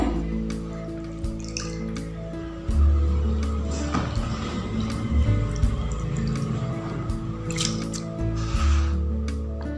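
Potato sticks for crispy chips are swished and rinsed in a bowl of water, with sloshing, dripping and soft wet squishes against a low background hum.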